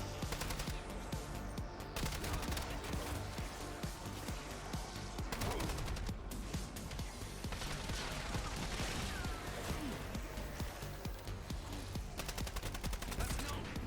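Rapid automatic gunfire rattles almost continuously from a weapon in a zombies survival video game mode, dense and loud with brief pauses between bursts, and faint talk is heard underneath.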